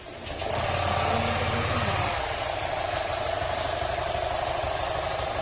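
Honda Click 125 scooter engine runs with an abnormal noise, a steady close mechanical hum and whine, with a brief higher rattling tone fading out in the first two seconds.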